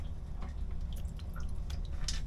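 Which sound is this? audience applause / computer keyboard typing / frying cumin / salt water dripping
salt water dripping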